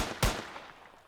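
A single gunshot in an indie game, one sharp loud bang with a short decaying tail, alone without talk.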